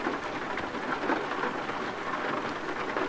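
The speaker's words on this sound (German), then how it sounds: "Natürlich regnet es noch." Steady, dense rain pours down in Euro Truck Simulator 2, a continuous hiss of drops on the surface with a low rumble beneath, unbroken for the whole stretch and no voices.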